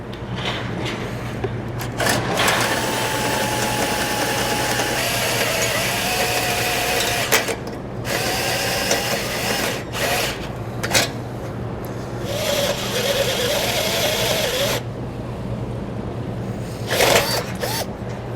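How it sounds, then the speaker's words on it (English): A power drill grinds steadily through a vehicle's metal frame rail with a hole saw, a continuous rough whirring and scraping that pauses briefly a few times before starting again. "On each frame rail, we're going to drill it out."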